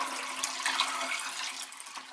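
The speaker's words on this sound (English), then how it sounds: "what we want to do is pour in colloidal silver water" Colloidal silver water pouring steadily into a jar, a continuous close splashing trickle with no talking.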